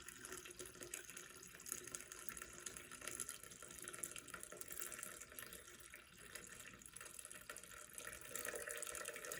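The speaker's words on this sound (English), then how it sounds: "we are going to go ahead and put our water in" Water being poured into a tea pot holding a diffuser with tea leaves, a soft continuous splashing trickle that stays faint and even throughout, with no talking over it.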